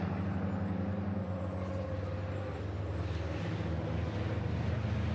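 A MAN racing truck engine roars steadily nearby during a race at Misano, a deep droning rumble with a higher whine above it, holding loud throughout.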